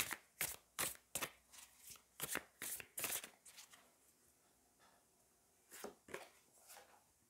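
Tarot cards shuffled and drawn by hand, a run of crisp riffling flutters in quick bursts, then a pause and two more close, fairly quiet card bursts, with no speech.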